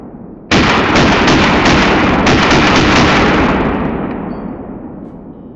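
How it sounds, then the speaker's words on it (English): A Bushmaster ACR rifle bump fires outdoors in a fast, loud burst of shots lasting a couple of seconds, then echoes fade away with no talking. "show it a little bit of love with a little bit of a classic bump fire in action here"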